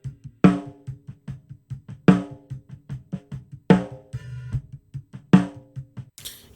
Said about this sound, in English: The snare speaker sounds like this.